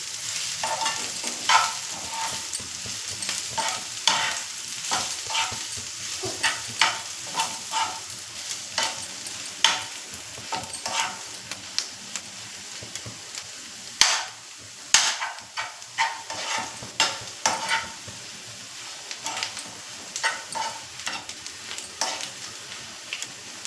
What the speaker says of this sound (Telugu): ఉప్మా చేస్తున్నాను కొత్తిమీర కలిపేసేసి